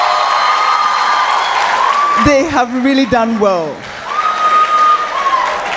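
Audience applause and cheering for a team at an inter medical schools public speaking competition, a steady wash of clapping with a few whoops, while a presenter talks over it through the middle.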